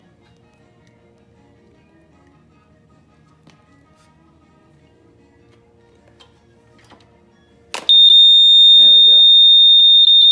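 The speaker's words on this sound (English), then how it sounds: "That's my alarm there, so" A loud, continuous electronic alarm tone on a Honda CB160 motorcycle suddenly starts and holds steady, following a quiet stretch of faint clicks and a brief spoken remark.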